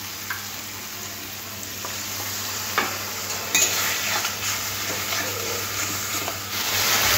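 A spice mixture of turmeric and chili powder with spiced water is stirred in a hot pan, giving a steady close sizzle with soft scraping strokes of the spoon and a few sharper clinks.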